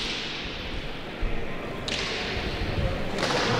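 A Basque pelota ball struck hard on the opening serve in a pairs championship final at Aranda de Duero, heard as a couple of sharp whip-like cracks and thuds over a hum of court and crowd ambience.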